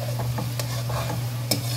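Sugar and glutinous rice being stirred in a pan for biko, a low steady hiss under repeated scraping strokes of a spoon against the pan, close and continuous.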